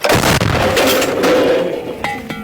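A loud, booming artillery gun blast right at the start, followed by a long rumbling decay and echo, then a few sharp metallic clanks near the end.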